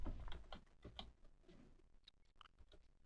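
Keys clicking on a computer keyboard in a brisk, uneven run of taps, close and quiet, without any voices.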